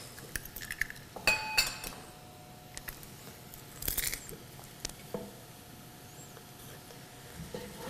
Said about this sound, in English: This takes a lot of stirring and attention